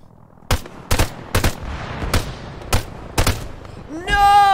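Arma 3 game gunfire from a Promet 6.5mm rifle: about seven sharp, separate shots spaced under a second apart, loud and close, followed by a rising electronic tone at the end.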